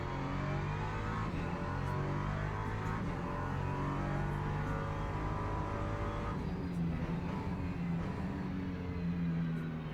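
Race cars, among them a Porsche, running in a European Le Mans Series race at Algarve, making a steady loud engine roar and drone that swells a little as cars go past.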